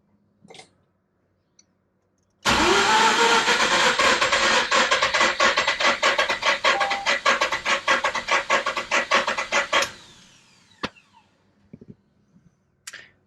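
Mazda RX8 with a 13B rotary engine and low compression cranks and fires, a steady fast chatter of starter rhythm for about seven seconds before it cuts off, with a few faint clicks around it.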